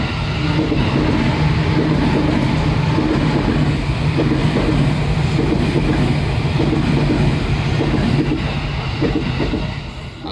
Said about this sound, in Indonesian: Kereta lagi coy.